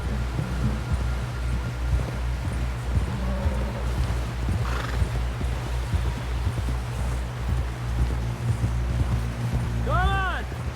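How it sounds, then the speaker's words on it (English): Hooves clip-clop steadily at a gallop under wind and rustling in Red Dead Redemption 2, then a horse whinnies near the end. "Someone help John down off this horse."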